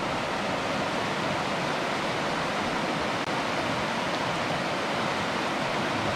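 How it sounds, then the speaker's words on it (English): The rapids of the Middle Fork Snoqualmie River near North Bend, Washington rush in a loud, constant broadband roar of churning water, steady throughout with no voices. "but I like the rapids here."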